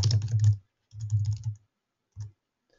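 Typing on a computer keyboard in an email editor: three close, crisp bursts of rapid key clicks separated by short pauses, the last one brief, with no talking.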